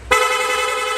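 A Honda Click V3 motorcycle horn blares in one sustained, steady tone for about a second, loud and close, with no talking.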